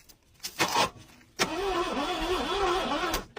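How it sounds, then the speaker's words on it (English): A 1968 Ford Thunderbird's starter is jumped and cranks the engine in a rapid, wavering whir that repeats without catching, after a few short knocks and clunks. "Trying to jump the starter."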